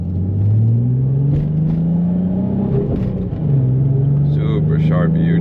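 A 2004 Nissan 350Z climbs uphill, its engine droning steadily close by and rising gradually in pitch, with a brief dip midway before pulling again.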